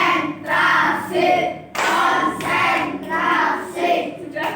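Children in a primary classroom chant together while clapping a rhythmic concentration pattern, voices and hand claps rising and falling in regular phrases at close range.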